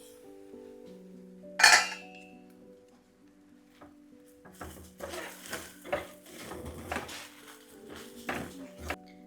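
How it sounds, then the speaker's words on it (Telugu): Rava upma is stirred in a pan while the semolina roasts, Udupi hotel style. A sharp metallic clang comes early, then repeated scraping and clinking stir strokes under a low hum from about the halfway point. "ఇలా రవ్వ ఇక్కడ వేగుతూ ఉంది, అలాగే ఒక్కసారి ఉప్మాని కలుపుదామండి."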